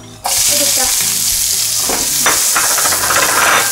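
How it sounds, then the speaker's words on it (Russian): Bell pepper hitting a hot pan for bibimbap in a home kitchen: a sudden loud sizzle that starts abruptly and then holds as a steady, crackling fry, with stirring scrapes mixed in. "Так, теперь жарим перчик"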